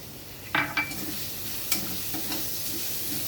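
Ginger, garlic and chopped onion hitting hot oil, bursting into a loud crackling sizzle with a couple of sharp spikes, then settling into a steady fry with occasional stirring scrapes.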